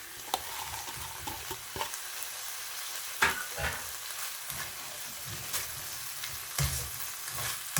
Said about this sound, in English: Stir fry for 1 to 2 minutes.